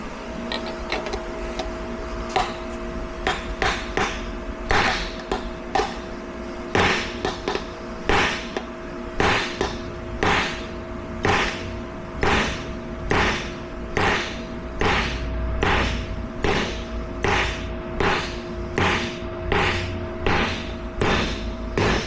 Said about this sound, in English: Grab a good sized hammer.